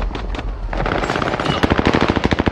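Loud automatic gunfire in Call of Duty Warzone on Rebirth Island: a rapid, evenly spaced burst of close shots rattling off one after another, nothing else competing.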